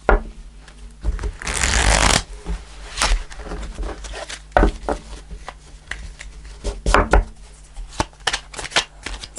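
Tarot cards being shuffled close up, a dense riffling burst early on followed by scattered slaps, taps and card flicks at an irregular pace.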